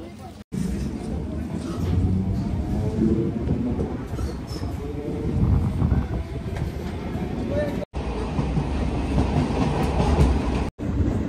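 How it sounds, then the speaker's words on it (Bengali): A Bongaon–Ranaghat local train pulls into Coopers Halt, a small single-track rural stop, with steady rumbling wheels and clattering carriages filling the clip, close and loud, briefly cut twice. "এই যে এখন আমাদের ট্রেন এসে পৌঁছালো তার 7ম হল্ট কুপার্স হল্ট।"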